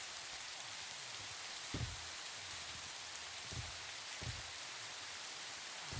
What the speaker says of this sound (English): Can we do this in the rain?